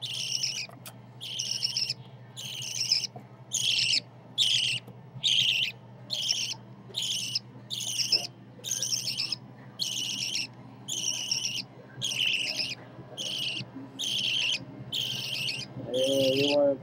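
Rhythmic high chirps from a 27-day-old baby budgie come in regular bursts through the clip, fairly close and loud over a low steady hum, with a brief lower sound near the end.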